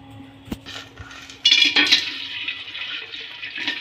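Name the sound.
pouring ghee and oil into a pot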